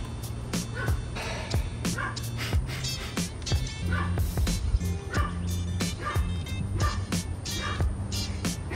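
A dog barks and yips repeatedly in sharp, close bursts, with some whimpering and background noise throughout.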